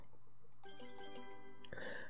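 A bright chiming bell rings out in a hidden-object video game, a short metallic ring that decays, followed by a second higher chime, clear and alone.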